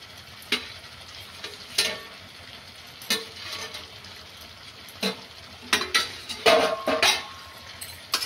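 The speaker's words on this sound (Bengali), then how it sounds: "এখন আমি আলুগুলো দিয়ে দেব।" Potatoes going into Bengali-style mutton curry frying in a pan, giving scattered sizzling bursts and scrapes of a stirring spoon, irregular and fairly soft, busiest toward the end.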